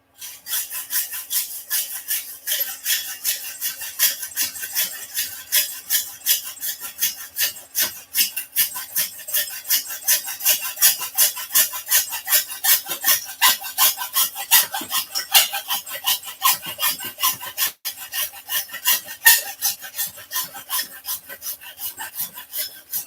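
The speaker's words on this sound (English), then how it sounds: "Hacksaw." A hacksaw cuts through a pistol barrel with quick, evenly repeated rasping back-and-forth strokes, close up and alone for the whole stretch.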